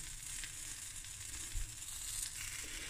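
Blueberry pancakes sizzling as they fry in a pan, a soft, continuous close hiss with a small bump of clatter midway.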